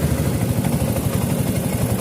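A motorcycle engine cranks on its electric starter and fires into a steady, loud mid-pitched running note during a technician skills test, continuous with no voices over it.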